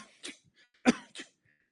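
A voice imitates a persistent, constant cough from a young man with a mycoplasma infection: three short, harsh bursts spaced across under two seconds, the middle one loudest, with quiet gaps between.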